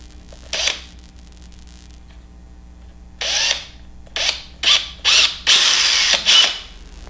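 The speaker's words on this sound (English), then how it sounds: "Turn it, and then drill your hole." A power drill whines in short bursts while drilling a hole in wood, one brief burst, a pause, then several quick bursts in succession, close and loud.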